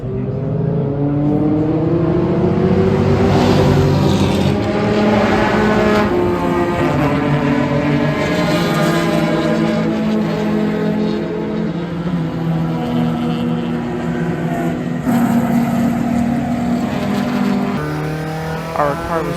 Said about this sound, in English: we went back to green flag racing